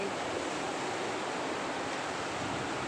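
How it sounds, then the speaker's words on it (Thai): Sea waves wash in at a beach where children play in the water, a steady broad roar of surf with no distinct breaks, close and constant throughout, without voices. "พาดูทะเล"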